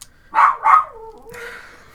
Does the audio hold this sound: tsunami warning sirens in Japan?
no